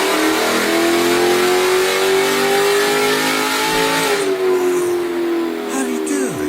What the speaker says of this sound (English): 2007 SRT8 Dodge Charger, Big Papi SRT cam.